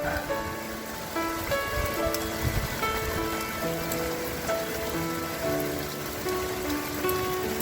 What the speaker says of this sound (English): Oh man, even in the rain.